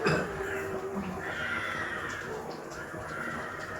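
Crows calling outside in a rubber plantation, harsh caws running through the whole stretch at moderate distance over continuous outdoor background noise.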